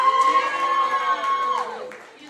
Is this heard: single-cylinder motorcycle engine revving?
no